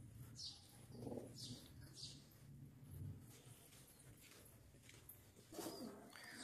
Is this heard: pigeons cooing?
yes